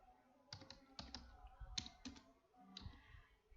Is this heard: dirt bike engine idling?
no